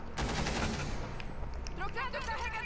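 Gunfire in the video game Rainbow Six Siege, a quick burst of rapid shots at the start followed by quieter game sounds, with players talking over it.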